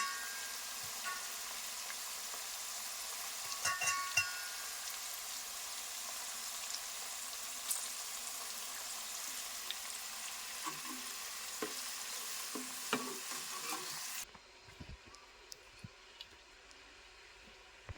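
Broad bean seeds sizzle and fry in a pan for a long steady stretch, with a few soft scrapes and stirs near the end before the hiss drops to a quieter simmer.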